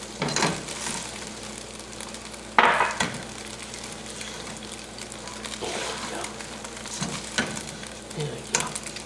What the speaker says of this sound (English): Move this pasta around. Okay. Until it's all coated evenly with the panko.